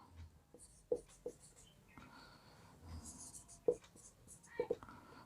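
A pen scratches on paper in short strokes during a Class 10 trigonometry lesson, quiet and close, with soft speech around it.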